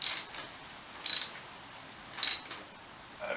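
Wheel being tightened back onto a Honda XL250S motorcycle during restoration, heard as three short ratcheting mechanical bursts about a second apart, with quiet pauses between them.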